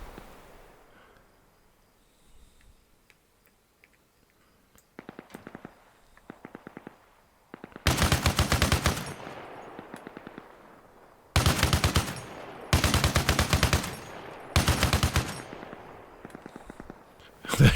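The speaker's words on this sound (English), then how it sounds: "We could get on the machine gun." Machine gun fire in the Arma Reforger video game comes in several loud, close bursts of rapid automatic shots, with quieter, more distant bursts before them and short pauses between volleys.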